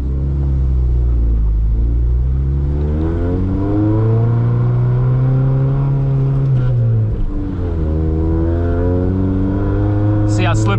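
Honda Civic EF engine revs rise and fall through the gears while driving on a snowy, foggy road, a loud close harmonic drone that climbs steadily then drops at each shift, with no talking over it.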